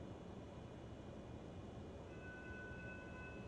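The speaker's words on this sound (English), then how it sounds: "that's a hell of a train" A train rolls by in Florida, a continuous loud, broad rumble that holds steady for the whole stretch, with a faint tonal whine riding on top and no talking.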